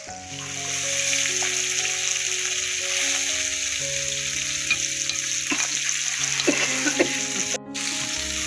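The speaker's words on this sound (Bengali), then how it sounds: "মাছ ভাজা হয়ে গেছে" Tilapia fish frying in oil with potatoes and green chili, a continuous close sizzle with occasional crackles and stirring clatter, plus a steady electronic hum underneath.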